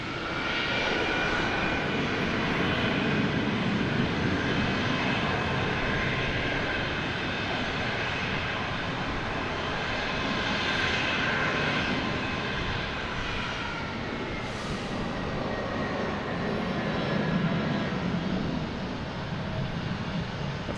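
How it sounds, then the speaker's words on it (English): A Spirit Airlines Airbus A321 jet arriving from Fort Lauderdale lands at Boston Logan Airport, a loud, sustained engine roar and whine that swells and eases gradually over about twenty seconds. "Spirit Airlines coming from Fort Lauderdale, an A321."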